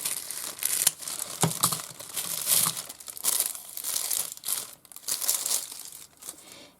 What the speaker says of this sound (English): So there's a bit of crinkling going on.